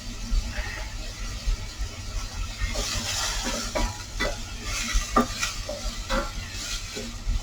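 Food sizzling and frying in a pan on a home kitchen stove, a steady hiss with scattered pops and crackles, moderately close, no talking.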